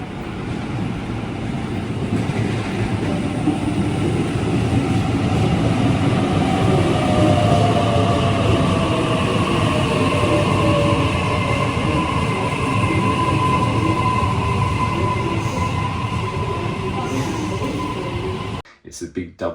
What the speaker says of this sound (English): It's a big double-decker electric train. And it's so quick too.